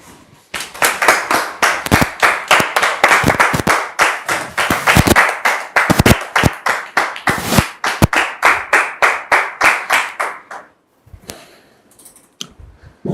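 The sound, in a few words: studio audience applause for a guest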